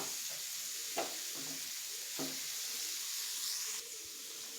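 Cluster beans sizzle in a little oil in a pan while being stirred, a soft steady frying hiss with a few scraping stirs, close and fairly quiet.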